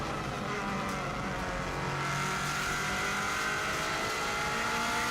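A 2016 Subaru WRX STI driven flat out on the Isle of Man TT course, its engine roaring loud and continuous from inside the car as revs climb and fall through quick paddle-shift gear changes.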